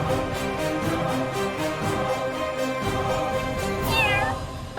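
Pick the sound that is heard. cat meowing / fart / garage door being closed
cat meowing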